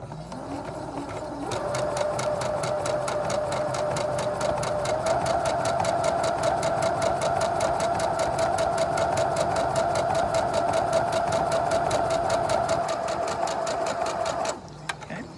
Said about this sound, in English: we're going to start sewing 1/4 of an inch on both sides of the line